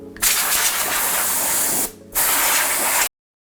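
Compressed air from a spray duster blasts in two loud, sharp hissing bursts: a long one, a brief pause, then a second shorter burst before cutting off into silence.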